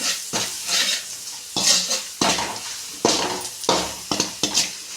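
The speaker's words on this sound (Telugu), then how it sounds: "ఇప్పుడు బాగా ఇది కలుపుకోవాలి." A spoon scrapes and stirs a ground mix of chili powder, garlic and salt through puffed rice in a pan, in repeated close strokes with clinks against the metal and a light sizzle underneath.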